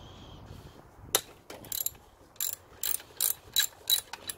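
A ratchet loosening the 12mm bolts on a Classic Mini alternator: a sharp metallic snap, then a series of short clicking ratchet bursts in a steady stop-start rhythm, close up with no talking.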